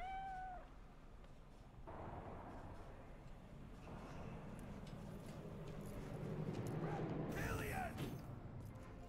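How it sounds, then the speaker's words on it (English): A pet cat in the Cyberpunk 2077 video game meows while being petted, with short, faint mewing cries at the start over steady game ambience and a louder burst of activity near the end. "I pet the kitty again."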